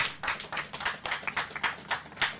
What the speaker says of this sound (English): He deserves a round of applause, Mr. James Meadow.